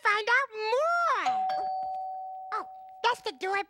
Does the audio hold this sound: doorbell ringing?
yes